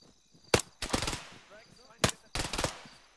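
Gunfire from the video game Arma 3: two separate clusters of sharp shots, each a loud crack and then a short ragged burst, with quiet pauses between them and murmured radio-like chatter in the background.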